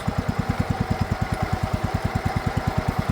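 A 1969 John Deere 112 lawn tractor engine runs steadily while driving, a close, loud, even low chugging pulse of rapid regular firing beats with no talk.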